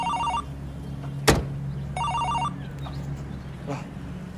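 A telephone rings in two electronic ring bursts after being called, with a sharp knock or thump between them and a low steady hum underneath.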